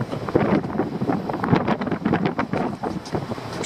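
Strong wind buffets the microphone on Girvan Pier in Scotland, producing gusty, rumbling blasts that swell and fade irregularly, loud and close throughout.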